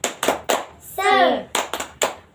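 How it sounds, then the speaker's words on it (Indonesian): Children in an Indonesian primary classroom perform a rhythmic 'tepuk semangat' clapping chant, with sharp, close claps in short patterned bursts around a brief voiced shout in the middle. "alangkah baiknya kita tepuk semangat dulu"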